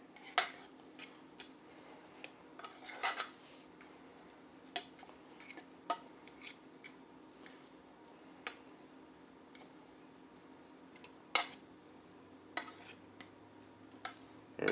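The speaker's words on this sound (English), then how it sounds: "Stir that in." Instant mashed potato mix being stirred in a metal pot, with a spoon clinking against the sides in irregular taps and scrapes, fairly faint and close, with no talking.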